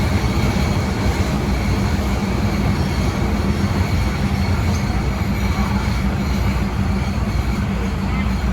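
A Thai passenger train arrives at Ban Laem terminal station, rumbling steadily with a loud, continuous low roar of wheels on rails, a constant mechanical drone that holds without pause.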